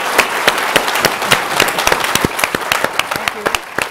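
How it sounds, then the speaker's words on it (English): A lecture audience claps in sustained, dense applause, many hands close by, steady throughout with a voice speaking faintly over it. "one more round of applause"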